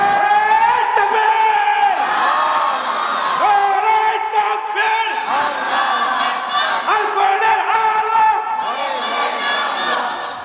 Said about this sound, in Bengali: মসজিদ পাড়াতে কোনো ব্যক্তি তাকবীর দিতে যাবে জানে না নাকি? তাকবীর দেন তো।